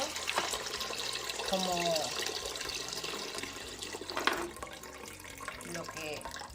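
About two litres of filtered water pour into a kitchen jug, a continuous mid-level splashing stream with a rising filling tone and a brief word spoken over it.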